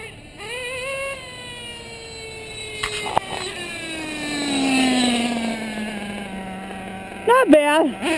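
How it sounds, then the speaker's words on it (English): A Chinese-made 28.8 nitro engine in a remote-control model, freshly pull-started, winds up to a high, rising whine that holds at full throttle, close and fairly loud, with quick sharp blips near the end. "let's start it down here. We'll do a 4-second pull. Full throttle."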